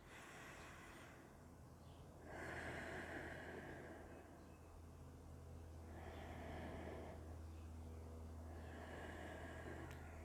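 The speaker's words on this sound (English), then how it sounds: "Take 2 deep breaths in and out." Slow, deep breaths in and out during a neck and shoulder yoga stretch, each long airy inhale and exhale swelling and fading in a steady rhythm over faint room hiss, with no talking.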